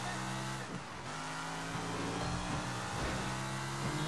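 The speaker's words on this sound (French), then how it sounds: "cette voiture accélère très très vite" Car accelerating hard in the video game Sleeping Dogs, a loud continuous engine roar with rising tonal bands as it climbs through revs, briefly dipping before pulling strongly again.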